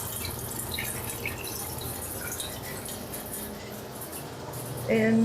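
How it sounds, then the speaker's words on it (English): A kitchen faucet runs steadily in a soft, continuous hiss of flowing water, fairly faint, with quiet speech murmuring over it and a brief louder sound at the end. "I got the water running here."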